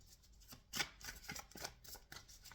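Tarot cards are shuffled in a quiet room, giving soft, close riffling and flicking bursts in a quick irregular rhythm with no speech.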